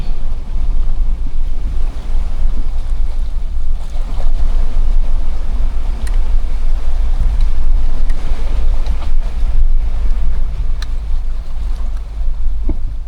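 A Lexus crawls off-road through deep, rock-strewn water holes, producing a loud, continuous low rumble with sloshing water and wind buffeting throughout, and no voices.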